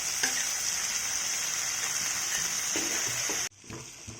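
Tomatoes and onions frying in a pan, a loud steady sizzle with occasional stirring scrapes that cuts off abruptly near the end, leaving faint clatter.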